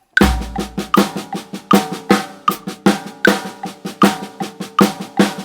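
Paradiddle pattern on a drum, the sticking alternating between hands each measure, played as a steady, loud run of sharp strokes with regular accents, with no talk over it.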